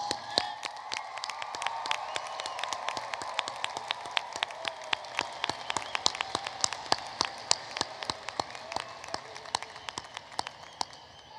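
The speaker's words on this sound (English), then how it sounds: "we can applaud even one more time" A large crowd at a university commencement ceremony claps for the graduates in dense, sustained applause with sharp individual claps throughout, steady and lively for the whole stretch.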